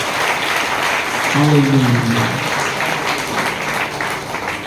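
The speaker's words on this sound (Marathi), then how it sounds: "जोरात टाळ्या वाजवून स्तुती करूया" A church congregation claps loudly in praise during a sermon, a steady roar of hands throughout, with a single voice briefly calling out over it.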